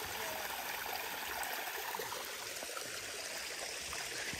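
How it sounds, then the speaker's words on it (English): A small mountain waterfall stream near Mount Baker trickles and splashes in a steady, even wash of water sound, moderately close and alone with no voices. "Little waterfall."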